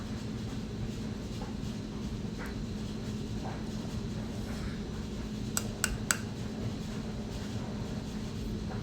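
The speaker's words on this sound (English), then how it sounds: "I apologize if you hear my dryer in the background" Home clothes dryer running in the background, a steady low rumbling churn with a few faint knocks and clicks near the end. It is quiet and continuous throughout, with no one speaking.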